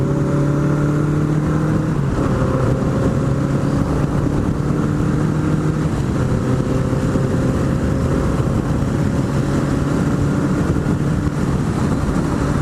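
Honda Nighthawk motorcycle cruising at highway speed in fifth gear, a loud continuous engine drone with steady tonal hum and heavy wind rush, close and unbroken.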